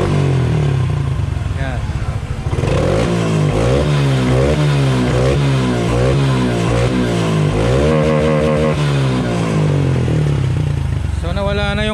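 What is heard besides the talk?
Honda XRM 125 Fi motorcycle engine starting and revving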